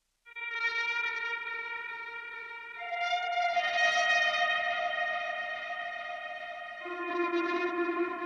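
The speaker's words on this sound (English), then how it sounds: "It's the granular bowed electric guitar." A sustained Omnisphere granular bowed electric guitar preset with a bowed, swelling attack shifts through a few held pitches, smeared with chorus and echo, playing alone.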